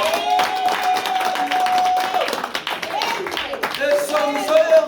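A church congregation at a French-language sermon applauding, with dense clapping that swells and fades over several seconds while a voice speaks or sings along on top.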